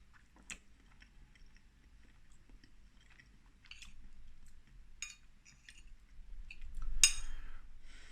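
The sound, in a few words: eating a spoonful of Christmas pudding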